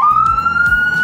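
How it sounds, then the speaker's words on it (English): A toy police car's electronic siren wails loud and close, one steady rising tone held throughout with a low rumble beneath it. "And then we even got the siren."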